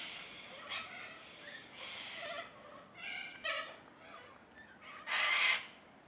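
Noisy corellas, white cockatoo-like parrots, screech in repeated harsh bursts of varying loudness. The calls come from nearby outdoors, with the loudest screech near the end.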